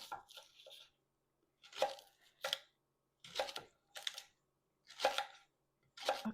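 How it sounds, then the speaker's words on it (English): A knife dicing rhubarb on a cutting board, several separate crisp chops in short bursts with pauses between, close and fairly quiet, with no talking. "if you get a thicker piece, what you'll need to do is cut it in half and then make dices"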